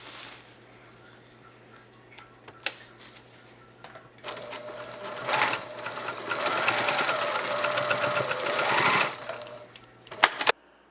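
Sewing machine stitching along the seam of a hammock underquilt protector made of lightweight fabric, a steady whirring run of several seconds after short bursts, close and clear with no talk.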